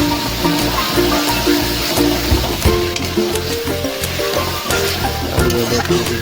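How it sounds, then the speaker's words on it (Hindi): Spinach fries in a pan for palak paneer with a dense, steady sizzle and crackle that stays loud and close throughout, mixed with some stirring. "पहले पालक को फ्राई करते हैं।"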